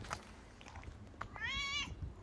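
A single short meow from a cat outdoors on Aishima island near Kitakyushu, clear and fairly near over a quiet rustling background.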